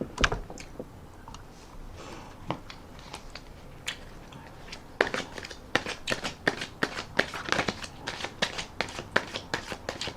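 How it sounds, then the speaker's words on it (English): Tarot cards are shuffled and riffled close up, with soft scattered flicks that turn into a dense run of rapid crisp riffling clicks, no talking. "I'm going to shuffle and rifle one more time"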